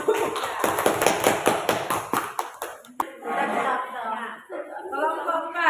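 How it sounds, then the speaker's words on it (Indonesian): A group audience at a school teaching-practice session applauds group 4 with a brisk, evenly timed patterned clap lasting nearly three seconds, then voices start talking. "Berikan aplaus untuk"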